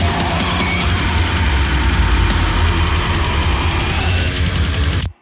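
Dense, heavy cinematic rumble with booming low impacts and swelling reversed textures, loud and sustained, cutting off abruptly at the end.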